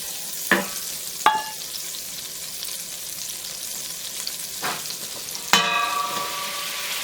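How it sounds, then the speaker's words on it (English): Butter melts in a pan for a roux, giving a steady soft sizzle broken by a few sharp metallic clinks of a utensil against the pan. "So I'm just going to melt down that butter"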